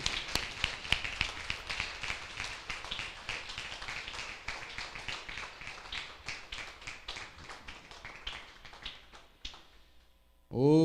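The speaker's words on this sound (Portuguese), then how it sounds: "esse aplauso está fraquinho." Congregation clapping during a baptism service at an evangelical church: a steady, fairly modest patter of many hands that fades out near the end, followed by a brief voice.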